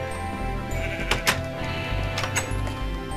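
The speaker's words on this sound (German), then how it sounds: "Wie kommt der Schaf hier raus?" Sheep bleating in the Minecraft video game, two short loud bleats in quick succession over steady in-game background sound and faint ambience.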